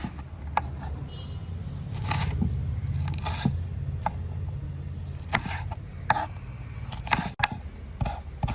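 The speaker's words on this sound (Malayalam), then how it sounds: "ഇനി പച്ചമുളക് രണ്ടായിട്ട് കീറിയിട്ട് കൊടുക്കുക." Green chilies being slit with a knife, giving soft, scattered cutting and scraping clicks over a low steady background hum, close by and quiet.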